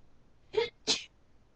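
Two quick sneezes in close succession, near and fairly loud, with quiet in between and after.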